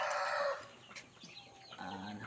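A fighting rooster on a farm crows once near the start, loud and close, followed by quieter clucking and fowl calls in the background.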